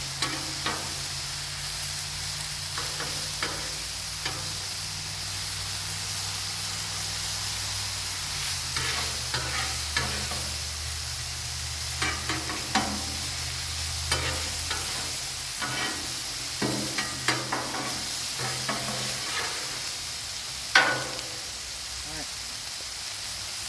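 Chicken fried rice with shirataki sizzles and hisses steadily on a hot Blackstone griddle, with water added for steam, while a utensil scrapes and taps now and then, with faint talk in the background.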